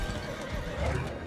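A horse in the video game Diablo 4 whinnies loudly and close, with clip-clopping hooves running underneath throughout the short burst.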